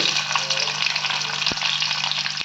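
Fenugreek and garlic fry in hot oil in a pan after mustard seeds, a steady close sizzle throughout with one brief clink of a utensil partway through.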